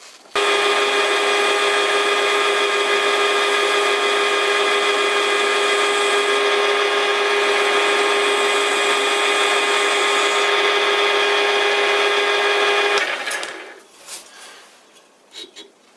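A metal lathe takes a light finishing pass, giving a steady loud whining hum with a strong even tone that runs unbroken for about thirteen seconds, then spins down and stops, leaving faint clicks and handling noise.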